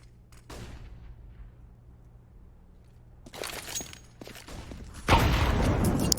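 A grenade detonates in a Counter-Strike match on Mirage, bursting loud and broadband near the end after quieter scattered game sounds and a few sharp cracks.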